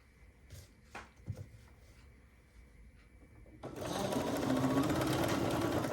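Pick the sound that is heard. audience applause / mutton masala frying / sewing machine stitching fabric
sewing machine stitching fabric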